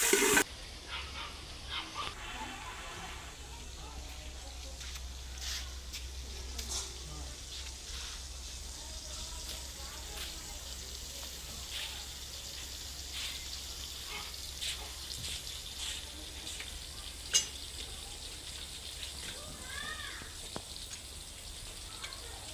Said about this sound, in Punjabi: ਘਿਓ ਗਰਮ ਹੋ ਗਿਆ ਤੇ ਵਿੱਚ ਪਿਆਜ਼ ਪਾਤੇ ਨੇ ਹੁਣ